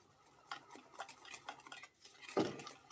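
Pancake batter being mixed with milk in a bowl, a quiet run of light scraping and clinking spoon strokes at an irregular rhythm, close by, with a sharper knock near the end.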